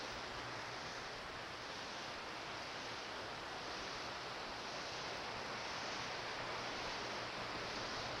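A man-made waterfall pours into a hotel grotto near Orlando, Florida, a steady, dense rush of falling water that fills the whole space evenly and never lets up.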